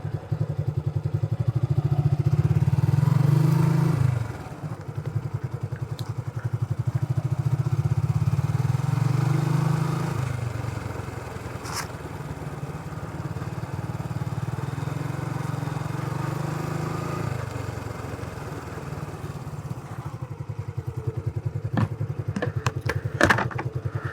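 A motorcycle engine idles and runs close by on an embankment by a river, a steady low rumble that dips partway through and continues under light clatter and a few sharp ticks near the end.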